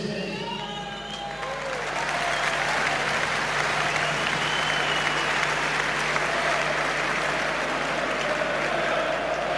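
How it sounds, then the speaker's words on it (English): Dense, sustained applause from a large crowd at Old Trafford football stadium, a steady wash of clapping and cheering that holds loud throughout. "applauds all four sides of Old Trafford"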